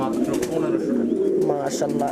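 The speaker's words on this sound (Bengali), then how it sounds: "এগুলো প্রত্যেকটা জোড়াই খামারের কবুতর দেখতে পাচ্ছেন" Farm-raised pigeons coo softly in a steady low murmur at a pigeon sale, with people talking nearby over them.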